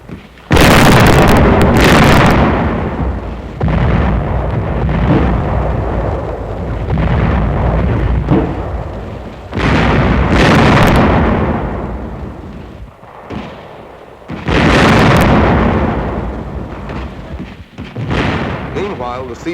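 Artillery and mortar fire from light field pieces booms in a wartime newsreel, several heavy explosions and thuds rolling out in bursts with gaps between, loud and close.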